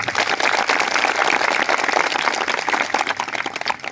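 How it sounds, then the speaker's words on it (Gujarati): A dense, loud burst of clapping from a large crowd at an outdoor political rally, continuous and unbroken for several seconds. "બધા માટે એકવાર આપણે જોરદાર તાળીઓ પાડી લઈએ"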